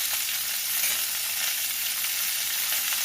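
Hot oil sizzling in a pan while making a spicy-sweet starfruit pickle, a dense and steady hiss that stays close and even throughout, with no voices.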